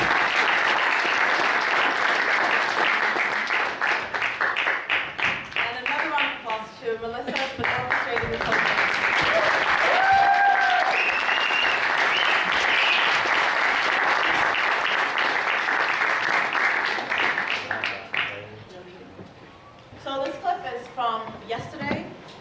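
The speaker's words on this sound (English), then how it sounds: "give another round of applause to those amazing." Audience at a press-freedom event breaks into sustained applause, and voices are heard talking over the clapping before it thins out into scattered claps near the end.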